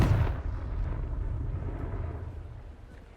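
A Confringo blasting curse explodes in the Hogwarts Legacy video game, a sharp, heavy blast at the start that rolls off into a long, low rumbling decay.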